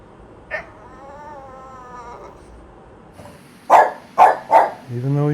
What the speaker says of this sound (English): Even though he's barking.